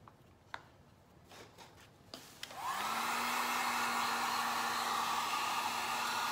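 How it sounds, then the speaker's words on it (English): A Harbor Freight heat gun switches on after a few light taps and handling sounds, then blows with a steady loud whirring roar while drying acrylic paint on an Easter craft piece. "now I'm just gonna grab my heat gun and quickly dry this for us"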